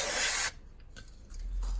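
A can of brake cleaner sprays onto the front brakes of a Land Rover 90 in a short, loud hiss that cuts off abruptly, followed by faint clicks and handling noises.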